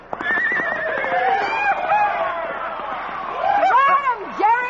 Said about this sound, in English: Man, Roy, that horse is going crazy.